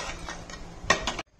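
A metal spoon stirs and scrapes spices with Kashmiri chilli in a pan for aloo gobi, making a few close clinks and scrapes that end in a brief louder clatter before silence.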